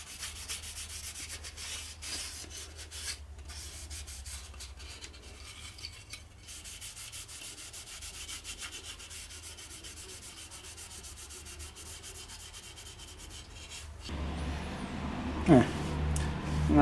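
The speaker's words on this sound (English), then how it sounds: "We'll see what we can do with this stuff." A wooden clock case for a round VFD clock kit is rubbed with sandpaper in steady, continuous strokes up close, and the strokes change character near the end.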